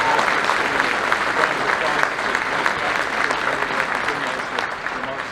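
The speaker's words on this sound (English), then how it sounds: "Please give her an incredible round of applause." Sustained audience applause fills a Senate campaign announcement rally in West Virginia, a dense, steady clapping roar from a large crowd that holds evenly throughout and eases slightly at the end.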